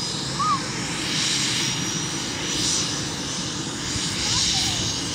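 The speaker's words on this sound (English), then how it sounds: "Propellers are moving." Helicopter rotors spinning up close near a house, a loud steady whooshing engine roar that swells and eases, with a faint voice briefly heard.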